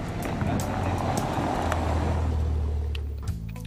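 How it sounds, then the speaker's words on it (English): An Audi RS6 Avant estate car engine roars loud and close for a few seconds, the deep rumble carrying steadily under some wind and road noise. "Something that sounds like an estate car with rabies is, at the first glance, a normal Audi A6 Avant with our Patrick behind the wheel."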